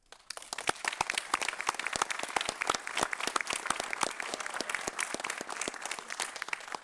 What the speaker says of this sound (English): if you just clapped